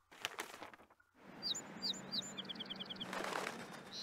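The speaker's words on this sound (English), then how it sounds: "Pretty birds." Birds chirp in Ninjala, short bright tweets followed by a quick run of repeated trilling notes over a soft ambient wash of background sound, with no talking.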